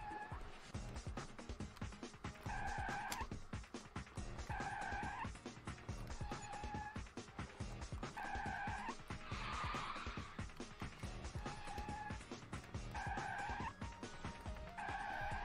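In the racing video game Thrill Racer, a car drifts with repeated sharp tire squeals and skids over a constant roaring engine, the squeals recurring every second or two throughout.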